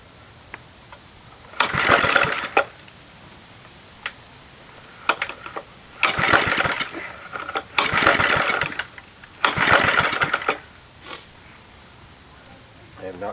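A 2hp Briggs & Stratton Golden Boy small engine, cold-started on the first pull with an uncleaned carburetor, buzzes in uneven surging bursts separated by quieter gaps, loud and close.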